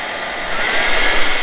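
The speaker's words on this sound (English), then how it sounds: "I'm gonna warm up the seal with the hair dryer." A hair dryer blows close by, a loud steady hissing whoosh used to warm a rubber elastomer seal during a portable bandsaw restoration, heard alone for a brief moment.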